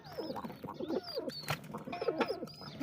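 Pigeons coo in soft, repeated rolling phrases close by, several birds overlapping in a steady rhythm with a few brief chirps mixed in, and no voices.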